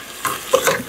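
Pork belly frying in a pan, a brief soft sizzle with a couple of light stirring scrapes.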